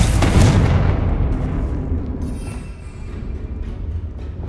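Confringo fire spell in Hogwarts Legacy, a loud blast right at the start that trails off into a long rumbling decay with steady low background noise, no voices.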